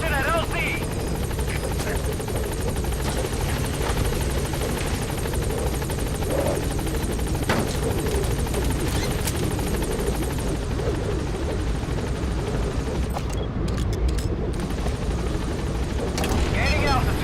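Pequod, the in-game helicopter in Metal Gear Solid V: The Phantom Pain, hovers at a landing zone with a steady, loud rotor drone and engine whine. A radio-style voice speaks over it throughout.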